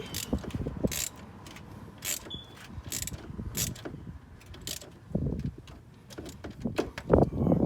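A ratchet wrench tightening the battery hold-down on a 2014 Dodge Journey, with quiet repeated clicking strokes, faint mechanical rattles and handling noise throughout, no speech.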